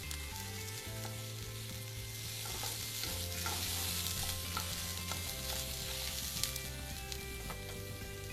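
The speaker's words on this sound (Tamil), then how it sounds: "பட்டை, கிராம்பு, கல்பாசி, இது 3 நான் ஆட் பண்ணுறேன். இதை நல்லா நம்ம வறுத்துக்கணும்." Cinnamon, cloves and stone flower fry in oil in a pan for a crab masala, giving a steady bright sizzle with occasional stirring scrapes, close and unbroken, with no talk.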